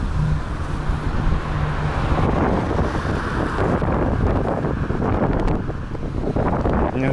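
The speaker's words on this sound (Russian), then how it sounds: "Не ожидал, что такой ветер." Strong wind buffets the microphone on a street in Turkey in heavy, gusting roars throughout, with faint rumbling traffic beneath.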